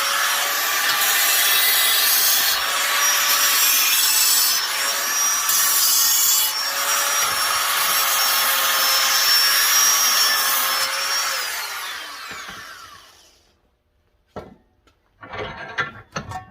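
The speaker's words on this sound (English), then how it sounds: "you put a nice little round edge on whatever you're" A Wen 6307 belt sander grinds an edge on a workpiece with a loud, steady abrasive whine and rubbing hiss that holds for about twelve seconds, then spins down and stops, followed by a few faint handling noises.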